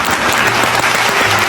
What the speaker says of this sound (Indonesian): kasih tepuk tangan guys